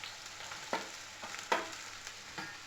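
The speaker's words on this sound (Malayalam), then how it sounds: "ഇതിലേക്ക് ഞാൻ ഒരു വലിയ സവാള കൊത്തി അരിഞ്ഞത് ചേർക്കുന്നുണ്ട്." Chopped onion and green chillies frying in hot oil for an egg curry, a steady low sizzle with a few sharp crackling bursts as pieces hit the pan, no voices.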